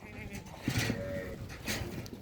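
Goats and lambs on a farm where goats nurse the lambs give two short, quiet bleats about a second apart over faint background noise.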